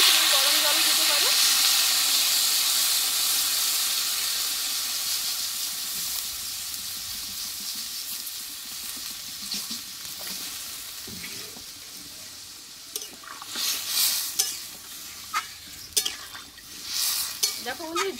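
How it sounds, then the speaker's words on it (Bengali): Ordinary water is poured into a pan of frying potato and papaya curry, producing a loud, steady sizzle and hiss that slowly fades. Stirring and scraping sounds follow, and a voice speaks quietly under them. "আমি এখানে নর্মাল জল দিচ্ছি, তুমি গরম জল দিতে পারো।"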